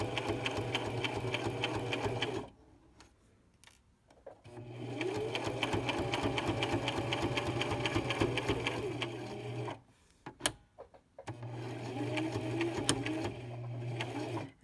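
Sewing machine stitching the opening of a fitted fabric face mask shut, running in steady close bursts with short pauses between, whirring rhythmically and fairly quiet.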